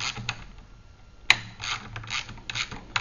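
A wrench tightens a bolt on a Theta Series magnetic sweeper, giving quiet ratcheting clicks and mechanical rubbing with one sharp metallic tick, close up and without talk.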